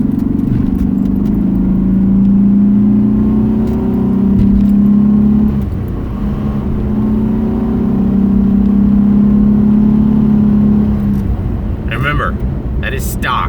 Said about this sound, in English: But here's the exhaust.